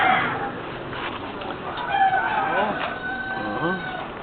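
Chickens cluck and squawk close by in short, uneven bursts, with people talking over them throughout.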